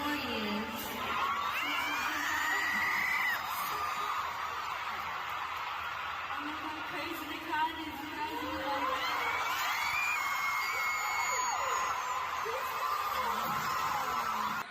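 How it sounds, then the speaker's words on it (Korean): Arena full of fans at a concert in the Philippines, screaming and cheering in a loud, unbroken roar for about fifteen seconds, with high shrieks and whoops rising over the mass of voices. "관객들은 더 크게 함성을 질렀습니다"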